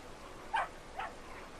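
A dog in the game Brothers: A Tale of Two Sons gives two short, faint barks about half a second apart, with a softer third yip trailing after, over a quiet background.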